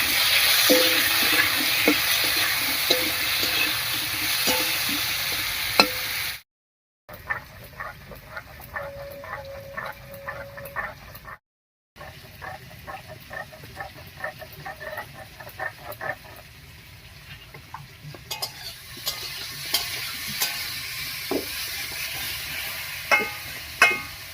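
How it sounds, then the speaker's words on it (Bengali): Potatoes and onions frying in a pan with a soft sizzle and repeated clicking stirs, broken by two short silent gaps; no voices. "এবারে আলু পেঁয়াজ সব কিছু একসঙ্গে ভাজা হয়ে গেল"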